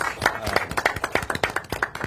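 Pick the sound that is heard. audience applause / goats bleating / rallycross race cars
audience applause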